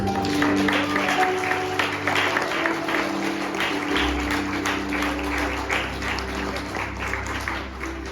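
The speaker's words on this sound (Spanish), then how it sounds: "Den un fuerte aplauso a mi Dios" Worshippers at a Maranatha prayer-mountain evening service give God a strong round of applause: steady, full clapping from many people, carried over a sustained low instrumental drone.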